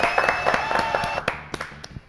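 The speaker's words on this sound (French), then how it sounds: "Applaudissements donc pour Thierry." A TV studio audience claps, a short burst of scattered hand claps that thins out over about two seconds.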